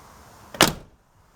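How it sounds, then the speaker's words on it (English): The door of a 1999 Chevy Tahoe with a repaired hinge shuts once with a short, solid thud, close by with no talking. "Here, we'll close the door and I'll show you."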